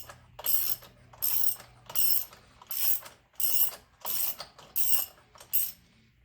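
A tool ratchets off the left-hand-thread clutch retaining nut on a 2014 Harley-Davidson 103 Twin Cam. Eight evenly spaced bursts of clicking sound close up, each followed by a brief pause.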